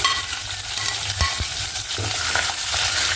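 Tomato frying with onion and curry leaves in hot oil for a traditional val bean dish, stirred continuously; steady close sizzle with a few sharper scraping stirs, no talking.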